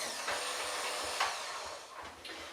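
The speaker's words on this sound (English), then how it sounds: "So here we go, little mixer," A small electric hand mixer whisks cream and custard with a steady, fairly quiet whirring drone, broken by a few brief bumps and changes in pitch as the beaters move through the bowl.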